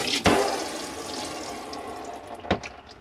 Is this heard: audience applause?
no